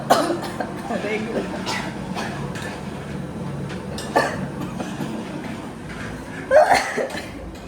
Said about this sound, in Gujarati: તો મને તો ઉધરસે આવી ગઈ